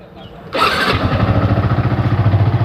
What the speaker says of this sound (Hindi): चलो बाइक को करते हैं अपनी कोल्ड स्टार्ट।